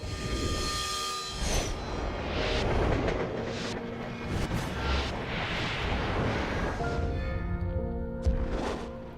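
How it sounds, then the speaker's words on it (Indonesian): A train rushes past at speed, a loud roaring rumble with rattling swells and a brief horn-like tone, continuous throughout. "saat kereta lagi ngebut"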